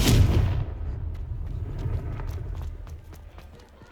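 A Confringo fire spell from the Hogwarts Legacy video game on Xbox Series X bursts with a loud, sharp blast, then trails into a decaying crackling rumble with scattered small pops.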